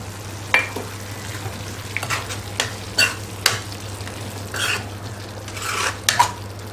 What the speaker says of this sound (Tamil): நல்லா சர்க்கரை எல்லா பக்கமும் மிக்ஸ் ஆகணும். நல்லா கலக்கி விடணும்.